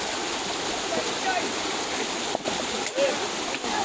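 In rainy-season Konkan countryside, water rushes steadily as a broad, continuous hiss, close and even throughout, with a couple of brief knocks and faint voices in the background.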